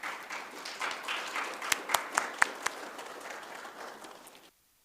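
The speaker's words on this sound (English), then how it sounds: "Please give yourself a huge round of applause." An audience applauds itself after being praised for its accomplishments, a moderate spread of clapping with a few louder nearby claps standing out before it fades and stops abruptly.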